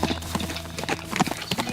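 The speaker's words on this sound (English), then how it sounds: "I see another horse." Horse hooves clip-clop in a steady, loud run of quick rhythmic strikes in the Teardown video game, with a faint whinny-like tone beneath.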